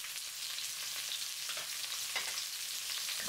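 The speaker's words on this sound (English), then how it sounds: "When the oil is hot, add the onions and 1/4 teaspoon of salt." Onions sizzle in hot vegetable oil in a pan over high heat, a steady, close hiss of frying with faint crackles throughout and no voices.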